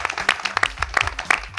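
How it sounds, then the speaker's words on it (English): Audience applause at a doctoral research competition finals, a short burst of clapping with a low voice running underneath. "Another round of applause for you,"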